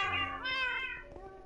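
Cats in the Minecraft video game meow several times in quick succession as they are pushed, with clear, close, high-pitched cries that overlap one another briefly.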